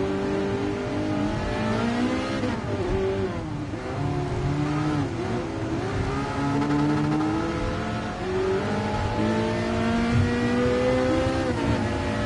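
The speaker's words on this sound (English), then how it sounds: "That's La Ferrari." A LaFerrari engine in Gran Turismo Sport revs loudly and accelerates through several gear changes, its pitch climbing and dropping in repeated sweeps over about twelve seconds, close and dominant with no talk.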